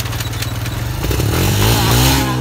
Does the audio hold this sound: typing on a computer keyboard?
no